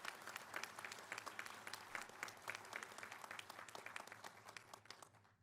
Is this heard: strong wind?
no